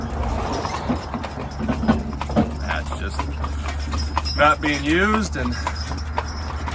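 A young horse walking outdoors, hooves clip-clopping in an uneven rhythm under someone talking, with a brief animal vocalization near the end.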